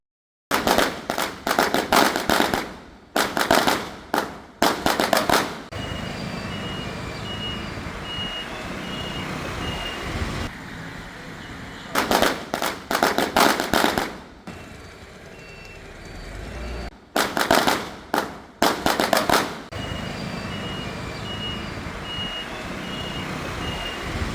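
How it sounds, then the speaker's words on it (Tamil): Strings of firecrackers set off in celebration at a roundabout in Batticaloa, loud crackling bursts in several long volleys with gaps of outdoor background noise between them. "ஒன்றிணைந்து வெடிகளை கொளுத்தி சந்தோஷத்தை வெளிப்படுத்தியுள்ளனர்"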